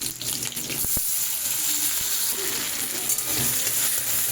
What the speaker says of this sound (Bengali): টমেটোটা একটু নেড়ে চেড়ে নিই